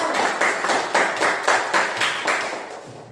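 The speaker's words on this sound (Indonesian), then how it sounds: "give applause for you" Students in a classroom clap together in a quick, rhythmic burst, steady claps repeating about twice a second, loud and close, with no talking.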